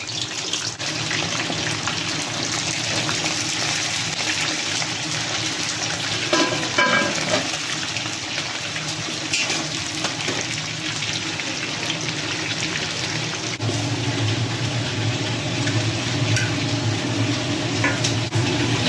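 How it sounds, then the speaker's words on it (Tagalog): Daing, dried fish, frying in hot oil in a pan, giving a continuous loud sizzling crackle that stays steady throughout with no talk. "Ayan yung daing natin, prito lang."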